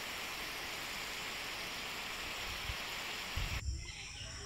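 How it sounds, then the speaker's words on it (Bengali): Heavy rain falls outside a house in a dense, steady hiss that continues unbroken, with a faint thump and a slight drop near the end. "এখনও বৃষ্টি পড়েই যাচ্ছে"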